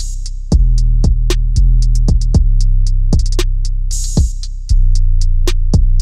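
A trap drum pattern: booming 808 kicks sliding in pitch under crisp, fast hi-hat ticks and occasional snare hits, loud and steady with no voices.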